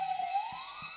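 A short electronic siren tone wails and rises briefly, thin and toylike, with a couple of soft thumps underneath, from a toy police car pencil sharpener.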